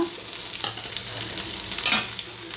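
Tomato, pepper, cumin and dry coconut fry in a pan with a steady, close sizzle and soft stirring scrapes, rising to a brief louder burst near the end; no talking.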